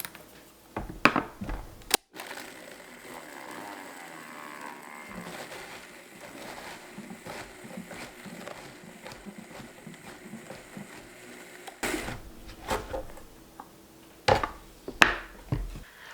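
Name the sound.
Vitamix blender blending freeze-dried dill pickles into powder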